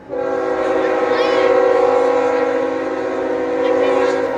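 A GE Evolution locomotive rolls by sounding a K5HL horn, a steady, loud, multi-chime blast held for several seconds over the rumble of the passing train.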